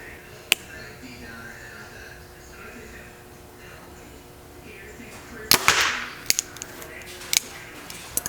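A compound bow is shot outdoors, giving a sharp, close string release with a brief rattling thump that fades, followed by a few scattered light clicks.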